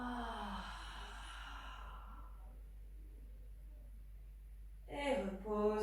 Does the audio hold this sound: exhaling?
yes